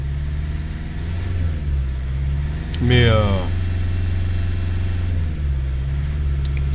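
A Chrysler PT Cruiser CRD diesel engine idles to warm up, a steady low, loud drone that runs throughout and briefly rises in pitch midway, with someone speaking over it.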